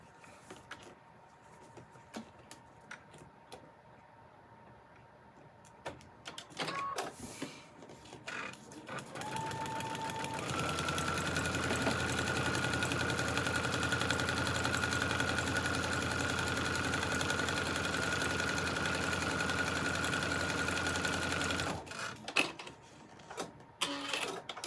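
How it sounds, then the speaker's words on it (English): A sewing machine stitches quilt fabric for a foundation paper pieced block, a steady rapid whirring run of about twelve seconds after some quiet handling noises, ending with fabric rustling. "I'm going to sew it down now"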